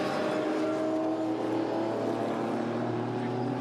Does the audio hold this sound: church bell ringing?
no